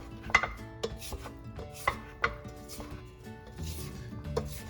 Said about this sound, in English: scrape down our bowl, and then add the dry ingredients